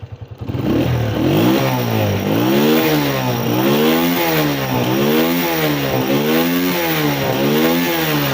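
A Japanese Honda CG125 motorcycle in fresh condition starts, then revs repeatedly up and down, its loud, close single-cylinder engine note rising and falling in a steady rhythm.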